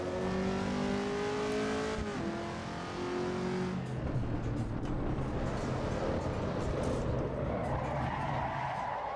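Supercharged Mercedes engine in Assetto Corsa EVO: a sustained mechanical drone whose pitch rises and then drops through gear changes, settling into a lower steady hum with tyre skid noise, loud and without voices.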